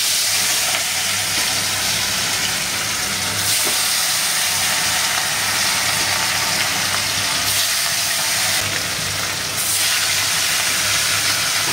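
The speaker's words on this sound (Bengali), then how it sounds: "মাছগুলো ভেজে নিই" Fish sizzling in hot salted oil in a pan, a steady, dense hiss that continues evenly throughout with no voices.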